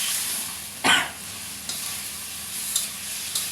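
Fresh chicken sizzles in a kadai while being stirred, a steady hiss broken by a loud scrape near the start and a few lighter clinks of the spatula against the metal.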